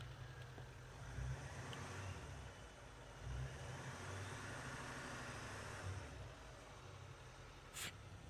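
A turbocharged car engine runs steadily with a few brief rises in revs, fairly quiet and a little distant, with no one speaking.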